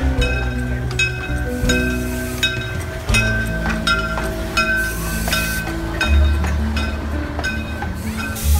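A ride-on train at the BC Forest Discovery Centre clatters along the rails with rhythmic clicks and clinks, hissing and rumbling steadily throughout at close range, with no voices.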